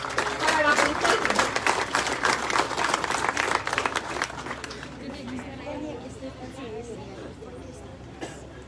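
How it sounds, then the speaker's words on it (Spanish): An outdoor crowd at a civic speech and dance event in Colotenango, Huehuetenango applauds loudly for a princess called to the stage, with dense clapping and chatter that fades out after about five seconds, leaving faint background voices. "Pido un aplauso para la princesa."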